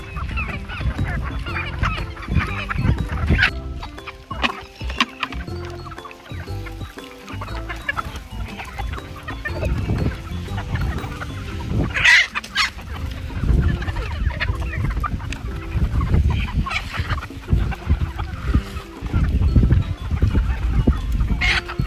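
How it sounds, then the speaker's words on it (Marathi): A flock of chickens eating papaya, clucking and squawking steadily, close by, with busy overlapping calls throughout and no talking. "बघू शकता पक्षी किती आवडीने आपला पक्षी पपई खातोय"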